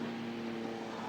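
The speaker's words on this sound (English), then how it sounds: "I hear a plane." An airplane flying overhead, heard as a faint, steady, distant drone with an even hum and no breaks.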